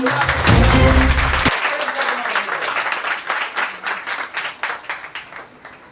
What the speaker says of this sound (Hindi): आप सभी जोरदार तालियों से स्वागत करिएगा